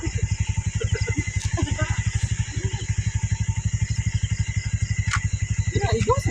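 A motorcycle engine runs close by with a steady, even, rapid putter throughout, while people talk over it.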